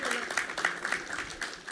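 Audience clapping at a spiritual retreat question-and-answer session, a short, fairly steady burst of applause with some louder individual claps standing out, and a voice faintly heard underneath.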